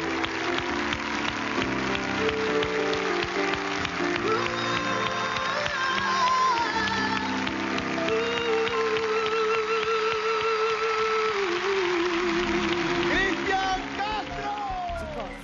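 An audience claps continuously while music with singing plays over it, the applause steady and moderately loud.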